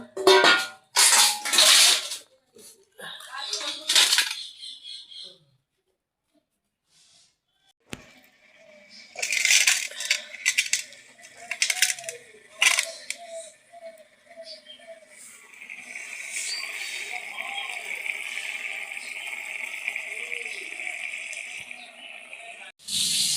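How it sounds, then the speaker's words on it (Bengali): Small fish for an aloo bali mach chochchori are rinsed in water in a home kitchen, with splashing and clinking bursts early, then a steady running-water hiss, with a brief voice. "এবার আমি এই মাছটা ধুয়ে নেবো"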